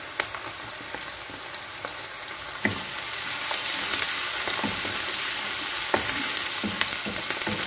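Garlic frying in a pan, a steady loud sizzle with occasional sharp pops and stirring clicks, no voices.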